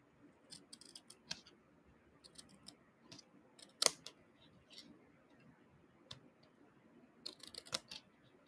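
Small pair of scissors trimming a bit off a folded paper card, crafting at home: a series of sharp, close snips and clicks scattered irregularly, with a louder cut near the middle and a quick cluster toward the end.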